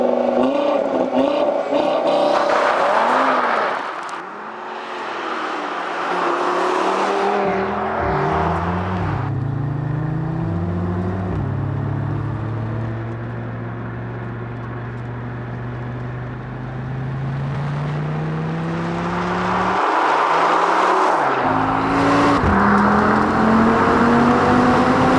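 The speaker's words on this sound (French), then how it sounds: "la seule musique qu'on va entendre, c'est celle du 5 cylindres." Five-cylinder engine of an Audi TT RS with quattro drive, driven in cold weather: loud, near engine note that revs up and shifts through gears, settles into a long steady drone, then builds again.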